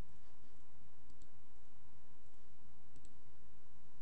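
A computer mouse gives two pairs of quick, faint clicks over a low room hum, about two seconds apart, with no talking.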